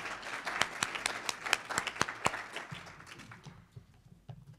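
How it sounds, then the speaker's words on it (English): Audience at a chamber event breakfast applauds with sharp, distinct claps that taper off into scattered hand claps and faint voices. "Let's give Dave Calter another round of applause"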